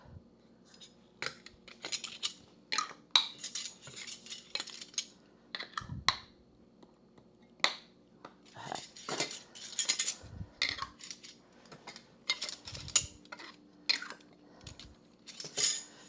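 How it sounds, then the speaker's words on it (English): Metal canning lids set one after another onto glass jars of pot roast, a string of light clinks and taps with quiet pauses between them, close by and without talk. "now we're going to go ahead and put the lids on"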